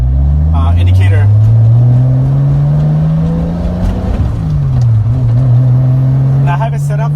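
A 2JZ-engined car makes a boosted pull toward a rev limiter set at 6,500 RPM. The loud engine note climbs steadily, drops sharply at a shift, then climbs again, with brief outbursts of speech in the cabin.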